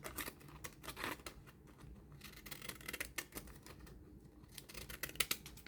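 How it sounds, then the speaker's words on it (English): Scissors cutting a book page into an arch shape, a series of close crisp snips and rustling paper strokes, soft and uneven in rhythm. "I'm going to cut it like an arch"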